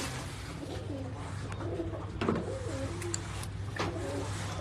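Several pigeons give low, throaty coos in short repeating bursts, fairly close and soft, with a brief knock partway through.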